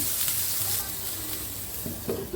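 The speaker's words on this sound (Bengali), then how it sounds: "বেগুনের ভিতরে লবণ হলুদ মাখিয়ে এই যে প্যানে তেল দিয়ে ওর ভিতরে সাজিয়ে গুছিয়ে এবার ঢেকে দেব" Brinjal slices coated in salt and turmeric fry in oil in a pan, giving a steady close sizzle with a few brief clatters near the end.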